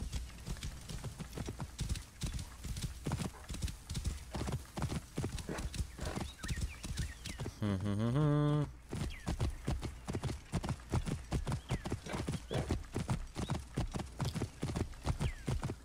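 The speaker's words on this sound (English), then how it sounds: "This is as fast as you can go on a horse." A horse gallops hard in the video game Assassin's Creed Origins, rapid rhythmic hoofbeats, loud and close, broken midway by a drawn-out whinny before the pounding gallop resumes.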